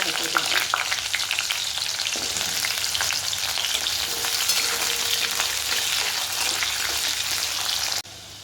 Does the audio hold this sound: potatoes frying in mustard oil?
yes